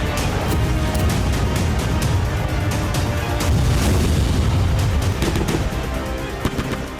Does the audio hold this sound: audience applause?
no